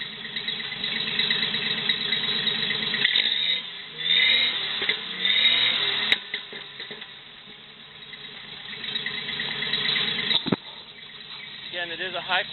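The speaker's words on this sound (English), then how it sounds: "We'll give you an exhaust shot. I will rev it." A 1976 Jeep CJ7 engine with a Flowmaster muffler, heard from behind at the exhaust, revs up and falls back several times with a low, throaty tone, plus a sharp burst near the end.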